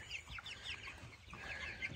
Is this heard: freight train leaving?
no